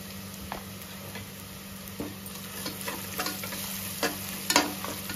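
Onion frying in a pan while mutton liver pepper fry is cooked, a steady soft sizzle with occasional clicks and stirring scrapes, fairly quiet and close.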